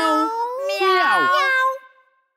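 A voice sings a drawn-out meow, imitating a cat in a children's lullaby song, with a rising and falling melodic whine that fades into silence.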